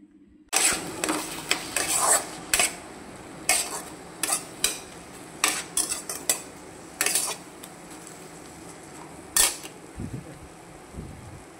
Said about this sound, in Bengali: আমি রসুনগুলো ভালো করে ছাড়িয়ে নিচ্ছি